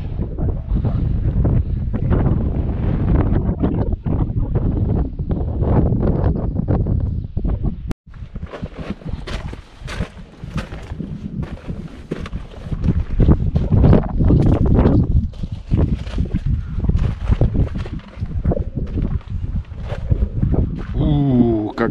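Strong gusting wind on a sunny mountain in the Al Hajar range buffeting the microphone in loud roaring waves, with faint voices partly buried underneath.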